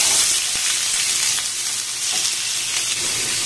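Chopped onion fries in well-heated oil, producing a loud, dense, continuous hiss and crackle up close with a few faint taps, and no talking.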